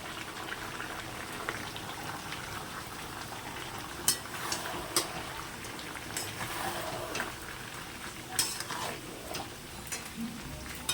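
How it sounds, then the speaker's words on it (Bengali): Paste of ginger, garlic, onion and green chili frying in a pan, giving a steady, fairly quiet sizzle and bubbling throughout, with a few sharp clinks of a utensil against the pan. "এবার দিয়ে দেবো রসুন আর পেঁয়াজ, কাঁচা লঙ্কা পেস্টটা।"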